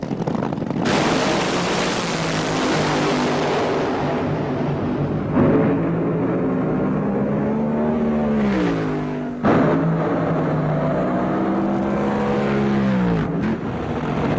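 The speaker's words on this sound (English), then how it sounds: "Nighttime qualifying, a dangerous time to run a fuel car" A 1987 fuel drag racing car roars loudly through nighttime qualifying at Bakersfield. The dense engine blast is sustained, with its pitch sweeping up and down, and a sharp surge midway before it keeps howling to the end.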